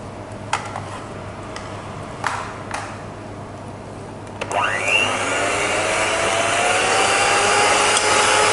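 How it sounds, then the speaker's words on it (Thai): An electric mixer whips cold cream at high speed for a whipped cream cheese cake topping, starting after a few clicks and knocks into a steady, loud whirring drone that holds to the end. "วิปครีมเนี่ยเราจะต้องตีตอนที่เขาเย็นจัด"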